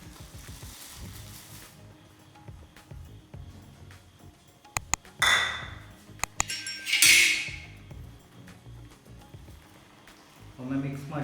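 Maggi noodles stirred in a bowl, with sharp metal-on-bowl clinks and scraping, a couple of louder bursts of clattering, close up, with a person talking throughout.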